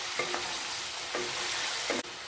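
A spoon stirs potatoes and bay leaves through hot oil tempered with dried red chilli, giving repeated scraping strokes over a steady loud sizzle and frying crackle, close up with no talk.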